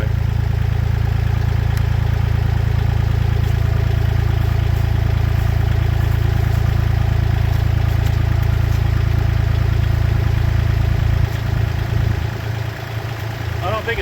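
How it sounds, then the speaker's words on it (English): A tractor engine idles steadily close by beside a Woodland Mills HM130 Max sawmill, a low continuous rumble with light clatter that thins out near the end. "then we'll back the tractor away"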